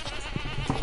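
Goats bleating in the Stardew Valley farming game, heard as a short, moderately loud bleat or two set against the game's steady background music.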